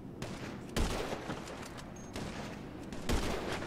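Sniper rifle shots in a video game: two or three sharp reports spaced about a second apart, each with a short rumbling tail, moderately loud against a steady background.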